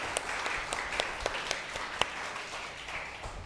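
A church congregation claps for Jesus during a service, a modest spread of hands with individual sharp claps standing out over a softer, lighter patter, fairly quiet and short.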